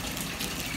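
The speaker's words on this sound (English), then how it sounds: "I'm gonna get some water from this end." Water gushes steadily from a bathtub tap into the tub, a loud, continuous broadband rush that is close and heard alone without any talk.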